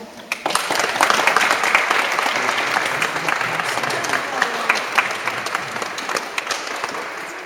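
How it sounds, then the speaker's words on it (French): A church congregation applauds newly baptised children at a baptism ceremony, dense sustained clapping from many hands filling the room for several seconds, loud and steady before slowly thinning. "ils ont mérité nos applaudissements"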